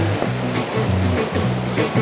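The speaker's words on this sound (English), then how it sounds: "This river right now is at spring height." River at spring height in the Middle Branch, a steady broad rush of flowing water, close and continuous, with low rhythmic tonal thumps pulsing underneath throughout.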